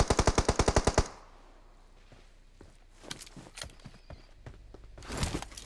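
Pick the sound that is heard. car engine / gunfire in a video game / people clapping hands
gunfire in a video game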